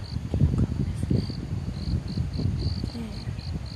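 Crickets chirping on a campus in the early morning, a steady bright repeated trill pulsing in short bursts over a low background murmur that may include faint voices.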